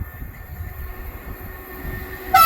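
A Greater Anglia train rumbles past near Enfield Lock station, a steady mid-distance roar of wagons and wheels, with a horn honk cutting in sharply at the very end.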